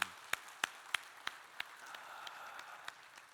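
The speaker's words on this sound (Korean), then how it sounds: "영광의 박수 올려드립시다." A church congregation at a Korean Sunday worship service claps in a steady, evenly spaced rhythm, the sharp claps gradually fading in strength over a few seconds.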